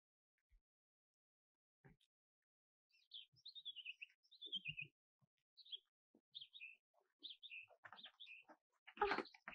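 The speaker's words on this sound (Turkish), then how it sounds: "Abi, bir kuşlar var." Small birds chirp in short, high, scattered bursts outdoors, faint and somewhat distant, with quiet gaps between the calls and a brief louder rustle near the end.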